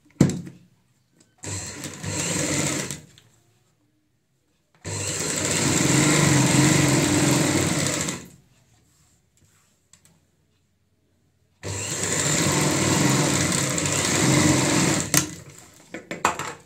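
An electric sewing machine stitching pieces of a ladies' handbag, heard up close in three runs: a short start-stop burst, then two long steady whirring seams separated by silent pauses.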